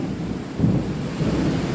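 Thunder rumbling during a rainstorm over Dhaka, a deep, loud continuous roll with a steady wash of rain beneath it, no voices.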